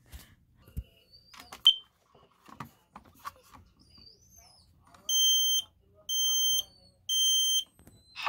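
A smoke alarm sounds during its monthly test: three loud, evenly spaced shrill beeps follow a few faint clicks and handling knocks.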